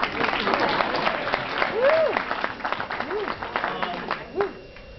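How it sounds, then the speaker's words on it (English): A wedding crowd gives a round of applause for the bride's parents, steady clapping filling the room with cheers and voices mixed in, swelling briefly near the end. "So another round of applause for Meg's parents."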